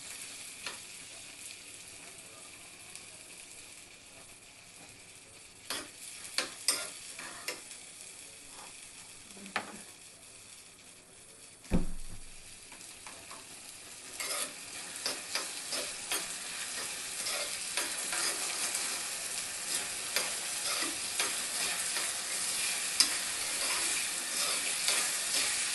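Dal roasting in a pan over a medium gas flame, a quiet continuous sizzle with intermittent spoon scrapes and taps that grow busier toward the end.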